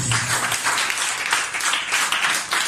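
Church congregation applauding during a worship service, a steady wash of many hands clapping together, loud and sustained with slight swells.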